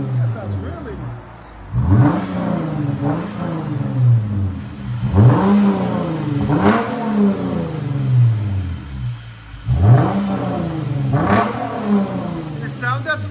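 A 2015 Lexus GS 350 with a 3.5L V6 and resonators revs repeatedly, several sharp rising blips over a steady idle, fairly loud and close, with people talking over it.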